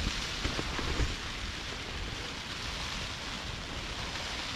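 Rain falls at night on a Stingray IV tent in Sena, Ayutthaya, Thailand, a steady, dense hiss of drops drumming close on the fabric, with no one talking.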